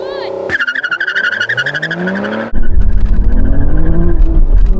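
Aston Martin V12 cars launch in a drag race, one engine revving hard through a shift before a much louder roar of acceleration with tire noise breaks in partway through, under an excited voice.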